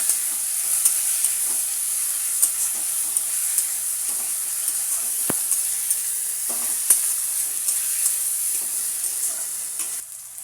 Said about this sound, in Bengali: টমেটো, জিরে বাটা। ভালো করে আমি ভেজে নেব।